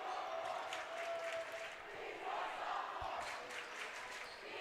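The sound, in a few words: crowd chanting at a high school basketball game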